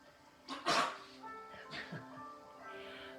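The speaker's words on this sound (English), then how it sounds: "we've got a dog down here as well" A dog barks a couple of times in the distance outdoors during a yoga session, with soft whimpery yips following, faint under quiet background noise.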